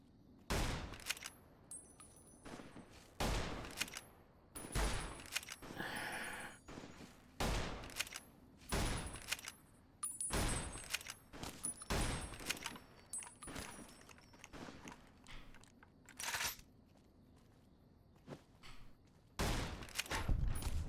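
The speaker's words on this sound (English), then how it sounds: "Sounds like gunshots." Bursts of gunfire in Fallout: New Vegas crack out in irregular volleys, sharp and loud, with brief pauses between rapid clusters of shots.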